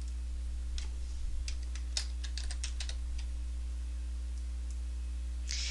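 Rapid typing on a computer keyboard, a burst of close, crisp key clicks in an irregular rhythm over a steady low hum, then fading to a single late flurry; no voices.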